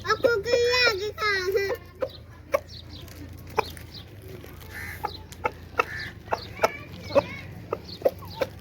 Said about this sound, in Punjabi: ਜਿੰਨੀ ਦੇਰ ਅੱਗ ਬਣਦੀ ਤੁਸੀਂ ਕੁੱਕੜਾਂ ਦੇ ਨਜ਼ਾਰੇ ਕਰੋ।